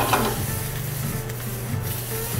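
Sliced mushrooms and sausage seasoned with pepper sizzle in a pan on the way to an omelet, a steady close frying hiss with faint stirring scrapes and no talk.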